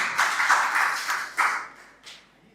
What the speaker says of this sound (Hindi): एक बार जोरदार ताली बजा के जरूर